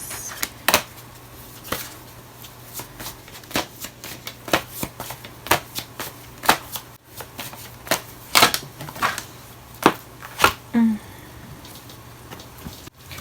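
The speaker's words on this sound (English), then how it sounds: "Can I get one more card, please?" A deck of tarot cards is handled and shuffled close by, giving irregular sharp slaps and flicks spaced a second or so apart, with a few louder bursts and no voice over them.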